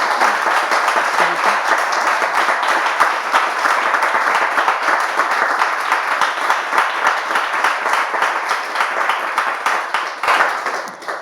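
Studio audience applause on a television talk show, a dense continuous clapping of many hands, loud and steady for over ten seconds with slight swells, no talking over it.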